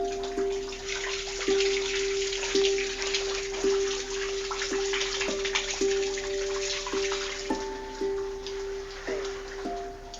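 Water leaking through a ceiling from a shower in the bathroom upstairs: a steady wet hiss with regular drip-like ticks about once a second, while faint ringing tones sound throughout.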